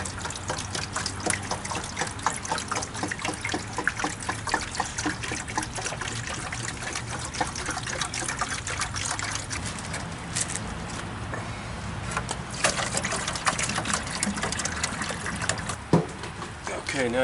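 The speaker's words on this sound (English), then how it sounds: "Now I'm pouring low down in there so it doesn't splash up on me." Heater core flush liquid is poured low into a container while flushing a Jeep JK heater core, making a steady close trickle and splash that runs on continuously, with a voice talking over it.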